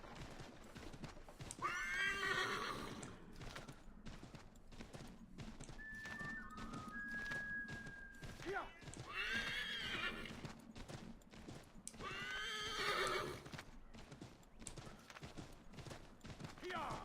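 A horse in Assassin's Creed III whinnies several times between steady clip-clop hoofbeats, the neighs rising loudly over the galloping rhythm with a brief tonal game sound in between.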